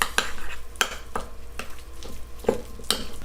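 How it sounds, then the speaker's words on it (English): Seasoning mixture for a boneless turkey roast being stirred in a bowl, with a series of distinct scraping and clinking strokes at an irregular rhythm, close and moderately loud, no talking. "Now we'll go ahead and stir this up together real good."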